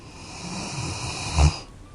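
A single snore with a low rumbling peak near the end, over soft steady breathing noise; close and moderately loud, no voices.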